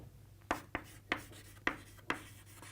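Pen or marker strokes writing a trigonometry definition by hand, five quick scratchy taps spaced irregularly over a faint steady hum, close and fairly quiet.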